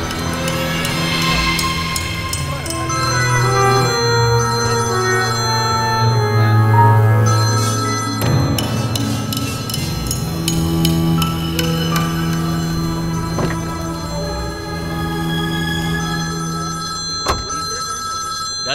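A mobile phone rings loudly and continuously with a repeating electronic bell tone over a low steady hum.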